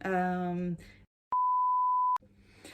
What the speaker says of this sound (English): I've forgotten to put my phone on aeroplane mode, and I had one of those spam phone calls coming through